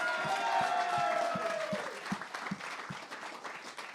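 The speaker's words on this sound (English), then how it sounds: "So everyone give a round of applause for Darcy." An audience at a live comedy show applauds a guest named Darcy: a dense burst of clapping that fades within about two seconds into a few scattered, separate claps.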